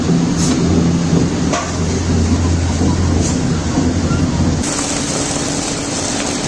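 A rice mill machine runs continuously with a dense, grinding roar and a repeated knocking clatter, steady throughout and close by, processing soaked rice for making poha.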